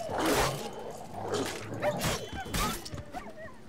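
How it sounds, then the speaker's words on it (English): A wild dog attacks the player in The Witcher 3, with several short snarling yips and growls in quick bursts among scuffling sounds, fairly close and moderately loud. "I'm being beaten up by a level 10 dog"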